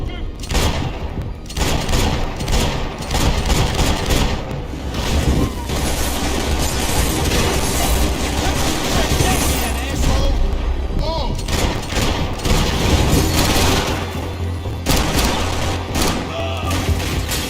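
Dense Max Payne 3 gunfire rattles continuously with heavy booming impacts and machine-gun bursts, loud and close throughout, while voices shout over the shooting.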